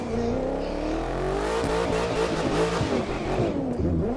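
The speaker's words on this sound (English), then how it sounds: "you guys see the launch control with this car" Car launching hard under launch control in The Crew 2 racing game, a steady loud engine roar climbing through gears with shifting tones across a few seconds, no voices.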